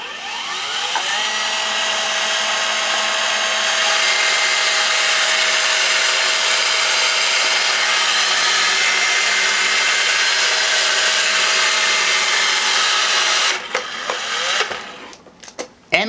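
A DEWALT 20V cordless caulking gun whirs steadily while dispensing thick construction adhesive, a continuous close motor whine for about thirteen seconds that cuts off abruptly, followed by a few handling clicks.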